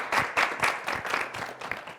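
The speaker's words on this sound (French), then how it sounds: "On dit merci à Richmond par des applaudissements." A studio audience on a television talk-show set claps together in quick, rhythmic bursts that stay loud and close for about two seconds, with no talking.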